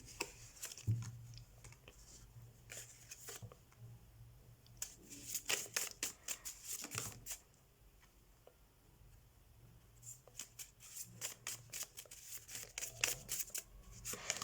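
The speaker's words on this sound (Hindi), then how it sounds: "लेट्स सी पाइसेस आपके लिए हैंडमेड डेक से कौन से कार्ड्स आते हैं।" Cards from a handmade tarot deck being shuffled by hand, with several bursts of quick riffling and soft slapping separated by quieter pauses, close and fairly faint.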